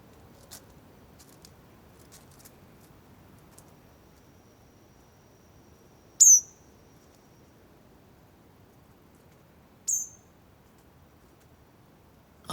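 A small bird in Brazilian forest hops in dry leaves, a faint soft rustle, then gives two short, sharp chirps a few seconds apart, close to the recorder in otherwise quiet surroundings.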